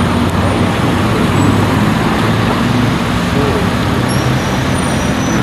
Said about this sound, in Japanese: 車多いよねやっぱね車多いね